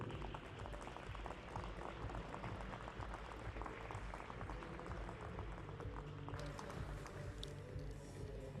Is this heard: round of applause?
yes